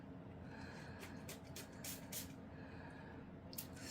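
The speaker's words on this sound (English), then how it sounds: "you're going to watch the effect that happens when you spray the alcohol" Several quick, soft spritzes of alcohol from a spray bottle onto epoxy resin in an irregular series, quiet and close over a low background hum.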